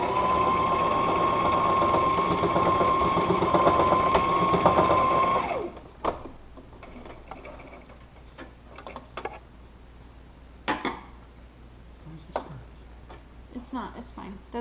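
A sewing machine stitches a fabric face mask in a steady, loud, humming run for about five seconds, then stops, leaving scattered handling clicks and fabric rustles.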